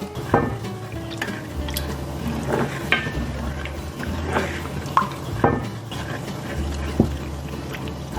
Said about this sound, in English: Just add a little bit, blend it, stir it around, add a little bit more.